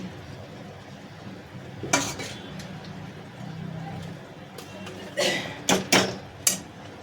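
Carrot halwa being stirred in a kadhai, the blended carrot scraped around the pan in a few scraping clatters, loudest near the end, over a steady low background.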